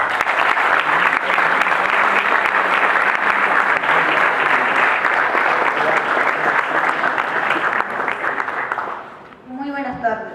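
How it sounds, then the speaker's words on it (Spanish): Loud, sustained applause from an audience at a school event, steady for about nine seconds before fading out as a voice begins to speak. "Y un fuerte aplauso,"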